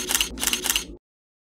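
Camera shutter firing three quick clicks in a row for photos, crisp and close, followed by silence.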